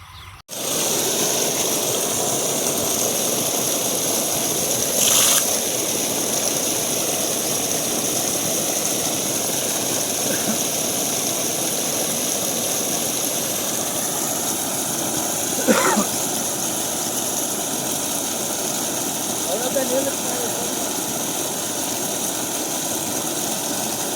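A solar-powered 5HP Texmo well water pump motor runs at a farm well, with a steady, droning mechanical hum that holds throughout, plus a few faint knocks and clicks along the way.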